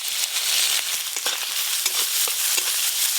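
Spices fry in oil in a pan with a continuous, close sizzle and faint stirring clicks scattered through it.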